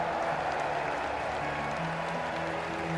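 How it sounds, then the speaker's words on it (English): Crowd applause for tournament victors in the video game Trails in the Sky, a steady, even wash of clapping with soft low tones running beneath it. "let us shower these victors with thunderous applause."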